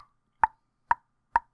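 A person imitates a metronome click with the tongue for a video game's sound effects, three crisp hollow tongue pops spaced evenly about half a second apart, close and alone in silence.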